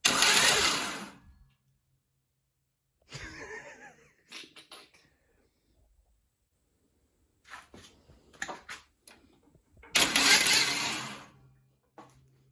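A 1984 Pontiac Grand Prix V8, freshly oiled with mismatched spark plugs and a new rotor, roars in two loud bursts at the start and near the end, separated by quieter intermittent clatter and near-silence.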